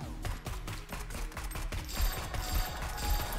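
Rapid bursts of gunfire in the roguelike shooter Neon Abyss crackle in a fast, continuous volley alongside game music.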